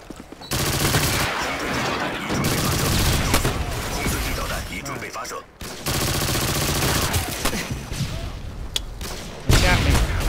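Shooter video game gunfire rattles in dense, loud automatic bursts, broken by a couple of brief pauses, with a voice talking over the shooting.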